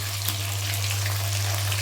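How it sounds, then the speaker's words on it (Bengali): Pomfret fish frying in oil in a pan, a steady close sizzle with a low hum beneath, continuous and even with no voices. "এদিকে কিন্তু মাছটাও আমার খুব সুন্দরভাবে ভাজা হয়ে গেছে।"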